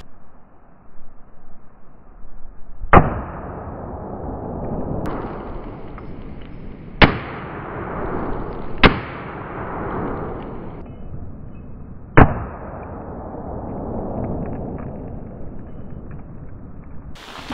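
Four loud rifle gunshots fired at an orange bowling ball, each a sharp crack with a long rumbling echo that decays between shots, spread unevenly over the span with steady background noise.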